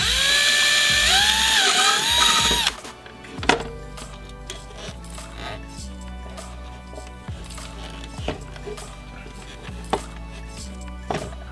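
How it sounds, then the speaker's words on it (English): A drill bit bores through a plastic Playskool Busy Ball Popper toy: a brief high motor whine, then a run of sharp intermittent clicks and knocks against a quiet background. "with the appropriate size drill bit, this matches with the diameter of your headphone jack wire, we're just gonna drill a hole right through the toy."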